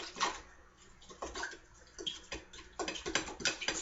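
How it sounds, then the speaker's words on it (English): Hemp protein powder is stirred into a bowl of greens, making soft, irregular wet swishes and rustles up close, with denser stirring near the end. "So just stir that up."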